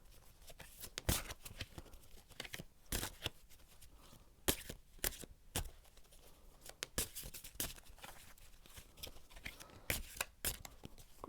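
Tarot cards are shuffled in quiet bursts of crisp riffling and papery slaps, irregular and close, with brief pauses between handfuls.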